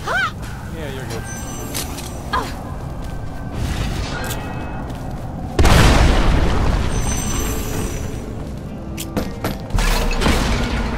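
A deep explosion bursts mid-scene in the co-op game Lara Croft and the Temple of Osiris, a loud boom with a sustained rumbling tail, among game effects and people talking over it.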